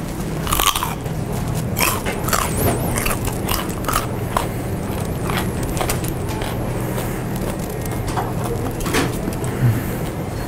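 Someone chews crunchy food close by, with repeated sharp crunches and bites scattered over a steady background of road traffic rumble.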